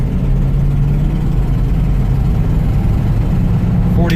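A classic car cruising along Boulder Highway gives a loud, steady low engine drone with road rumble throughout, with no distinct gear change standing out.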